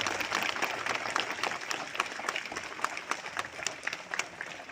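A crowd applauds at a school's Day of Knowledge ceremony on 1 September, the dense clapping steady and fairly faint for the whole stretch, with no talk over it.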